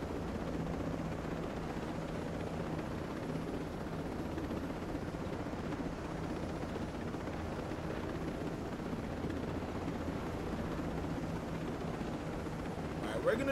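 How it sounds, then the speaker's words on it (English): A helicopter in the video game Ghost Recon Breakpoint drones steadily at moderate loudness for the whole stretch, a continuous rotor wash and engine roar with no breaks. "Helicopters do not work that way."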